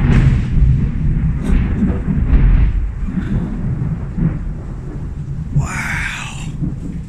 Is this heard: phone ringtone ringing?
no